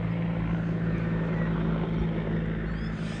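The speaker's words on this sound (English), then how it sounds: "that's the sound of water bombing and monitoring aircraft circling the fire" A steady, droning water-bombing aircraft engine hum with a low propeller throb, circling over a bushfire, continuous and fairly loud throughout, with no voices.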